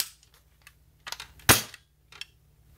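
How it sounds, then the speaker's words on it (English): A single sharp shot from an airsoft SPAS 12 stunt police shotgun firing 6mm pellets at 300 FPS, loud and close, with a few faint handling clicks and rustles before and after. "And just gonna shoot it real quick."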